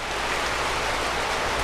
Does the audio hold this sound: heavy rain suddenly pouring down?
yes